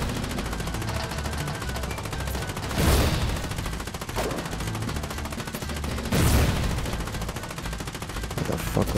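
Rapid, sustained naval gunfire from a warship battle in the game Foxhole, a dense continuous rattle broken by two heavy booming blasts, loud and close throughout.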